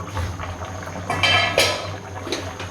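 Water coming to a boil in a covered pot while making vegetable pulao, a soft bubbling hiss with a few clinks of metal cookware and lid rising over a low background hum.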